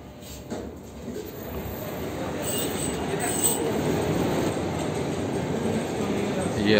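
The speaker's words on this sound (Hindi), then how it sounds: "ट्रेन बस अब पहुंचने वाली है।" A metro train arrives at an underground station beneath a large mall in Qatar. Its rumble and faint wheel squeal build steadily against a hum of crowd noise, with a voice briefly audible at the start.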